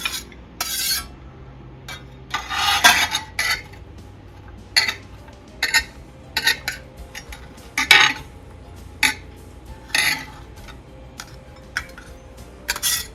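Vegetables being scooped off a board with kitchen utensils while making vegetable lasagna, heard as scattered clinks and scrapes of metal on dishes, with soft taps and brief rattles at an irregular pace and no talking.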